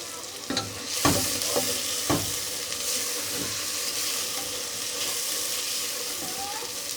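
Biryani masala is stirred and fried in a pot, with a few sharp spoon knocks against the metal at the start, then a continuous close sizzle that runs alone to the end.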